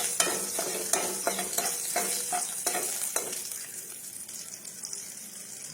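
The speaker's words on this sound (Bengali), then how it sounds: "এই যে কালো জিরা দিয়ে দিলাম তেলের মধ্যে" Nigella seeds and green chillies hit hot oil for a brinjal and hilsa curry, with a loud close sizzle and spoon knocks that settle into a softer steady hiss.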